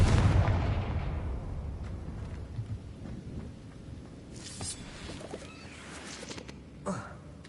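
Blasting spell cast in the wizarding game Hogwarts Legacy: a heavy rumbling explosion opens loud and decays slowly, followed by a few fainter crackling bursts and impacts, with no talk.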